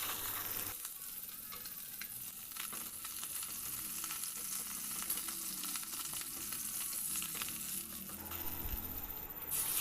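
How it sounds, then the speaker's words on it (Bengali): Fish frying in oil in a pan, a steady crackling sizzle that runs unbroken through the whole stretch with occasional stirring clinks, close and fairly loud, with no talking. "মাছগুলো দেখো ওদিকে ভাজা হচ্ছে আর আমি এদিকে মশলাটা করে নিচ্ছি"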